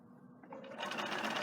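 A sewing machine stitches twill tape along a neckline seam, starting quietly and quickly building into a rapid, even mechanical chatter of close stitching, heard alone.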